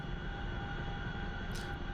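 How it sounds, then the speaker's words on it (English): A CH-47F Chinook helicopter in DCS hovers and swings around, giving a steady, continuous rotor and engine drone with sustained tonal whine, close and even throughout with no talk. "let's pull in just a little bit more power, and let's bring the chopper around"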